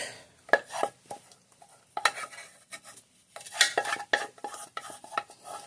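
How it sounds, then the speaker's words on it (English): Onions and cheese get tipped into a pot of potatoes for cheesy au gratin, with a spatula clinking and scraping against the pot in irregular bursts and brief pauses, close and fairly quiet. "I'll add just the rest of the onions with that cheese to the pan there, to the pot of potatoes"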